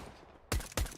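Two loud sniper rifle shots ring out in Counter-Strike during a pro match on the Nuke map, the first at mid-clip and the second a quarter second later, each a sharp crack with a short tail over quiet game ambience.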